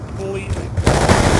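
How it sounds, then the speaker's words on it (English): A Death Machine minigun firing in Call of Duty, heard as a dense, loud rattle of rapid automatic fire that kicks in partway through and continues to the end, close and overpowering amid game chatter. "Friendly death machine spinning up."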